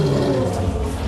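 A lion roars in a 1994 animated film, one loud, sustained rumbling roar filling the whole moment with no talk over it.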